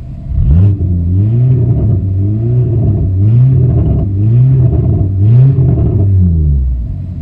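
A warm car engine in sound condition runs close by and revs repeatedly in a series of rising, wavering surges over a continuous low rumble, with no one talking.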